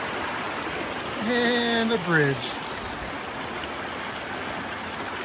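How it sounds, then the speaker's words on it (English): Steady rushing water from a small waterfall, with someone speaking briefly over the flow. "pretty little waterfall."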